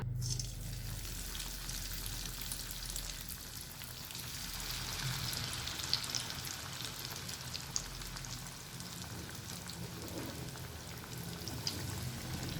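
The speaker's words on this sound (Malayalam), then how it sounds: "ഇനി നമുക്ക് എണ്ണയിലിട്ട് ഫ്രൈ ചെയ്തെടുക്കാം." Ripe banana fritters (pazham pori) coated in oats fry in hot oil over medium flame, giving a steady, soft bubbling hiss with faint crackles that runs the whole time with no one talking.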